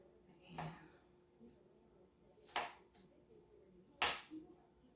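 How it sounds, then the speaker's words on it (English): Three separate knife chops on garlic against a cutting board in a home kitchen, sharp and spaced about a second and a half apart, with quiet talk in the background. "let me chop down this garlic a little more"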